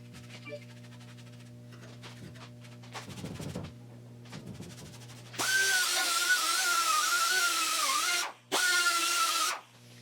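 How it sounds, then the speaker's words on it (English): A power tool fitted with a wire wheel scrubs rust off a 1966 Triumph Spitfire MK2 part, giving a loud, steady, close whir with a brief pause, after some quieter clattering handling of the piece. "I'm gonna wire wheel this part"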